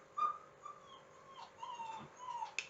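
A puppy on a couch gives soft whimpers and small yips, faint and intermittent, with no talking over them.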